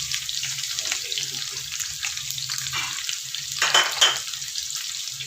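White onion and garlic sauté in a hot pan for an Ilocano dinengdeng, giving a steady close sizzle with scraping stirs and a brief louder crackle of movement near the end, with no talk over it.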